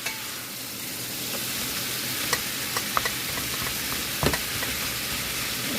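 Ground beef, about 2.5 pounds, browns in a soup pot, giving a steady close sizzle with a few sharp pops and scrapes of stirring, no talk.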